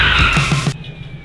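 A Cummins diesel truck doing a burnout, its spinning tires giving off a loud sustained squealing roar with low rhythmic engine throbbing underneath, cutting off abruptly partway through and leaving a quieter idle.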